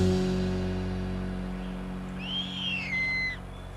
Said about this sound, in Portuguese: Já as corujas parecem até que vivem distraídas